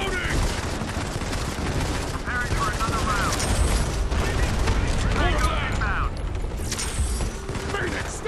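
Constant gunfire in a war zone in Modern Combat 5: Blackout on mobile, with dense rattling bursts of automatic fire and scattered shots. Game voices and effects run over it nearly throughout.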